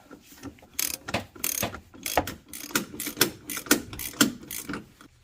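A ratchet tightens the transmission mount bolts on a Honda Prelude or Accord with a manual transmission, giving close, crisp clicking bursts in irregular strokes with short pauses between them, with no talking.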